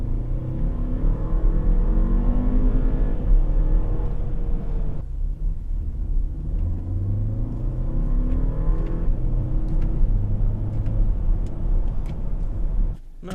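A 2018 Volkswagen Passat's turbocharged 1.8-litre TSI engine revs and pulls through several gears, the pitch climbing and dropping at each shift, loud and close with no voices.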